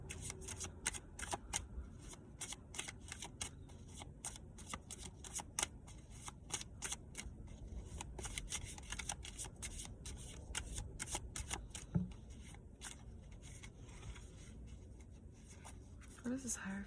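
Tarot cards being shuffled for a card draw, with repeated crisp riffling bursts and card snaps running steadily throughout, close and clear, while a person speaks quietly underneath.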